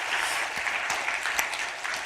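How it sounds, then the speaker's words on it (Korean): A church congregation claps together, dense, even applause filling the room with a few sharper individual claps standing out, continuous to the end. "마지막도 박수 한번 치죠?"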